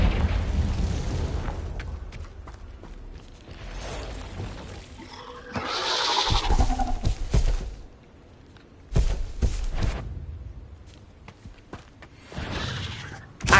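A Confringo fire spell explodes in the Hogwarts Legacy video game inside an Acromantula cave, with booming blasts and rumbling bursts repeating through the scene alongside footsteps and scattered impacts.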